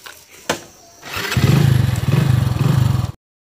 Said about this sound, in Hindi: मैं फिलहाल लेके चलता हूँ बाइक।